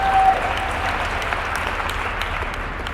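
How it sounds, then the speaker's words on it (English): An audience clapping at a leadership retreat, a dense, steady round of applause from a sizeable crowd that carries evenly from start to finish without speech on top. "But you can clap."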